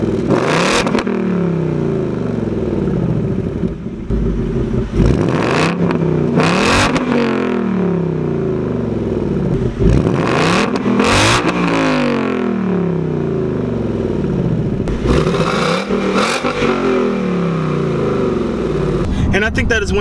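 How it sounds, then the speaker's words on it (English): A 2018 Ford Mustang GT Performance Pack exhaust barks through repeated loud revs, each rising then falling sweep recurring every few seconds, with someone talking over the engine throughout. "just starting off with the exhaust sound, it just sounds so incredible"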